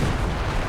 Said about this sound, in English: Major artillery coming down.